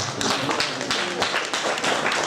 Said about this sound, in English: If you know him, just give Jesus Christ a round of applause on his behalf